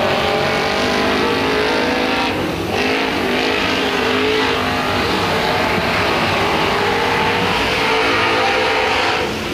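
A late model race car engine at Crossville Raceway drones loudly and continuously, with revving, throttle changes and a sharp lift near the middle, the car passing close with no talk over it.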